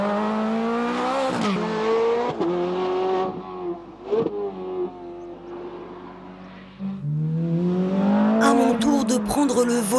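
A Ferrari 430 Scuderia's V8 roars close by, its pitch climbing and dropping through rapid revs and gear changes, then rising hard again near the end.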